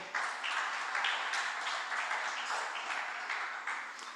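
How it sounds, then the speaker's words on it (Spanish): A church congregation claps together in sustained, even applause for several seconds, a close, steady patter that holds throughout. "Denle un aplauso al Señor"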